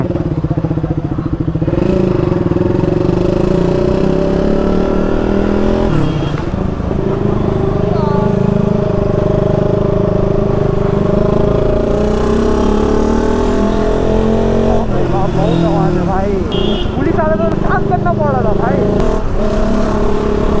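A KTM Duke 200 motorcycle fitted with a new aftermarket exhaust runs loud and close, its engine note rising and falling through repeated revs, with voices talking over it.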